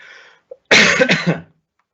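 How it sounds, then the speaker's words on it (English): A single harsh cough bursts out close to the microphone after a brief quiet moment, then fades into silence. "Excuse me, a bit of a cough."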